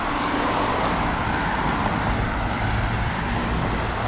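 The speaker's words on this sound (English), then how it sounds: "my excuses for the traffic noise, that's something I have no control over" Steady roadway traffic roars along a street at the Aruba cruise port, a continuous loud wash of passing cars and engines with no pauses and no talk.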